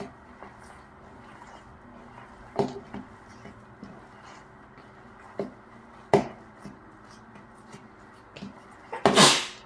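A single sharp sneeze near the end of a quiet stretch in a home kitchen during turkey meatball and zucchini noodle prep, preceded by soft clicks and handling noises.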